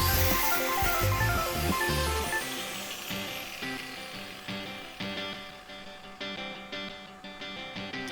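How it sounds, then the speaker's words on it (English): A spot weld drill bit bores out spot welds on the bodywork of an Alfa Romeo 145 Cloverleaf under restoration, a close, harsh grinding whine that eases off into repeated shorter bursts of drilling. "Now I'm just drilling out the spot welds."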